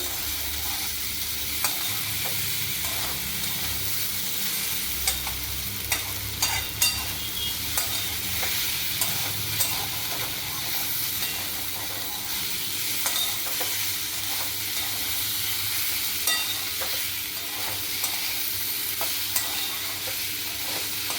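Elephant foot yam curry sautéing with a little sugar in a pan, a constant close sizzle with repeated spoon scrapes and clacks against the pan throughout.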